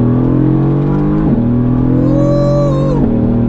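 A Mercedes-AMG Black Series accelerating hard, loud and close, its engine note climbing steadily with two brief dips at gear shifts, then rising again, with no talk over it.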